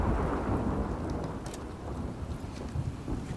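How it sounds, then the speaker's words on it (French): Steady rain and rumbling thunder from a thunderstorm in the video game The Last of Us Part II, a dense continuous wash with a few brighter crackles, heard alone without voices. "j'adore le bruit de l'orage, sérieux. Trop bien fait."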